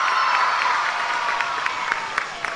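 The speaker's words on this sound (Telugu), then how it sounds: "గట్టిగా చప్పట్లు కొట్టి అభినందించండి" An audience at a government school event claps loudly, a dense sustained patter of many hands with a few sharper individual claps standing out near the end.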